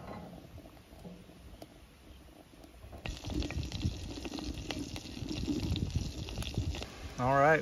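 Butter sizzles and bubbles in a pan over a rocket stove, starting as a soft hiss and jumping to a louder, crackling boil after a few seconds, with a brief metallic scrape near the end.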